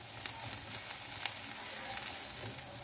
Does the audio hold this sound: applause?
no